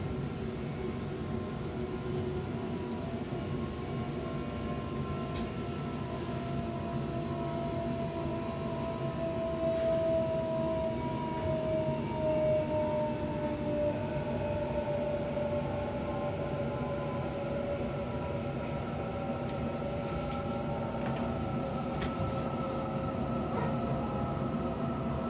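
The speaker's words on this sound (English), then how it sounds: "This train will stop at Riverston." Sydney T1 Western Line train running, a steady loud rumble of wheels and motors with a rising and falling whine, continuous throughout with no talk.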